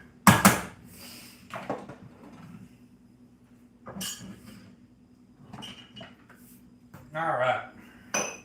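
Dishes, pots and cutlery clatter and clink in separate bursts during kitchen cleanup after cooking burritos, with quiet gaps between the sharp clanks.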